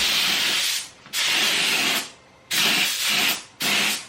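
Etch primer sprayed from an aerosol can onto car transmission tunnel plates, three close, loud hissing bursts each lasting about a second, separated by short pauses.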